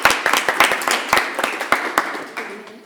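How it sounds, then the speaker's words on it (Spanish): Applause for speaker Damián Flores at a talk on accessibility and design systems: a smaller audience clapping in distinct, fairly quick individual claps that gradually thin out and fade toward the end. "vamos a darle un fuerte aplauso"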